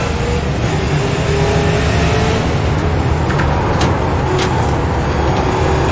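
Race cars in a racing video game surging away on a green flag, a dense, loud, continuous engine roar with rising pitch and no talk over it.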